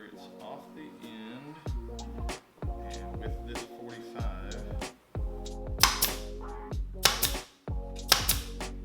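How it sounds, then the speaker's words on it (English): A pin nailer fastens wood on a modern outdoor cabinet project, firing several sharp, loud pops in quick succession over background music. "She even got into the nail gun action."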